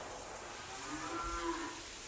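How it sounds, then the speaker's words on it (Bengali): A single drawn-out moo from cattle at a cattle ranch, moderately near and rising and falling in pitch, rises above a constant wash of outdoor background noise. "এই হচ্ছে বর্তমানে বুদ্ধ ক্যাটল র্যাঞ্চের সবগুলো গরু।"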